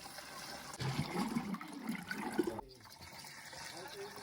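A hissing spray of water from a pump sprayer onto a wall for a couple of seconds, close by, then stopping, with a voice talking faintly underneath.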